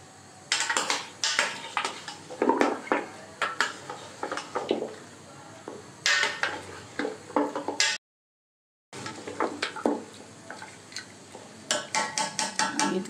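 Paya (goat trotters) being fried and stirred in a pot, repeated scraping and clanking of a metal spoon against the pot with faint sizzling, close and busy, with a short silent gap.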